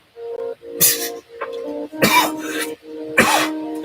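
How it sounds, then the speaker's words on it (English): A person coughs repeatedly in a close, loud series of harsh, raspy bursts, with some throat-clearing mixed in. "Oh man, there I go coughing again."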